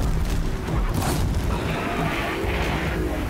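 A deep, rumbling boom from an explosion in the video game Horizon Zero Dawn, loud and sustained across the clip with broad crackling noise and no speech.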